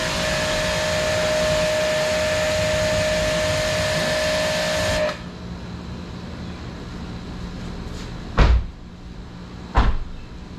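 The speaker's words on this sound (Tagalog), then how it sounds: "medyo maingay lang dahil sa pressure washer natin na motor" A pressure washer motor runs alone with a steady, loud drone for about five seconds, then cuts off, leaving quieter background and two sharp knocks.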